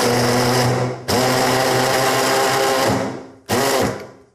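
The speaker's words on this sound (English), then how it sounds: "if you don't have a mini chopper like this, you can definitely do this by hand" Electric mini chopper dicing washed, cut-up celery, a loud steady motor whir in two bursts, the first running about three seconds before winding down, then a brief second pulse.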